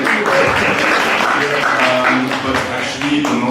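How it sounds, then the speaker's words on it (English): Audience at the NASA Space Apps Challenge final day in Zurich breaks into applause, a dense, sustained burst of clapping with some crowd voices mixed in. "so applause for him."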